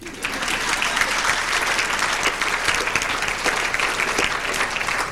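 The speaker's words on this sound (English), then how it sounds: "You can applaud. Go ahead." Steady, even applause from a women's club audience at a press luncheon event, sustained throughout at moderate volume with no voices standing out.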